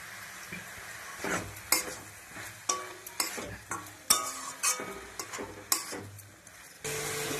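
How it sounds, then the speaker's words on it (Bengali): Spatula stirring fried shrimp with kalai greens in a hot wok, a sizzling stir-fry for a Bengali ghonto, with repeated scraping and clattering strokes over a steady frying hiss, close and fairly loud with no talk. "ঘন্ট করতে গেলে একটু নেড়ে নেড়ে শুকিয়ে নিতে হবে"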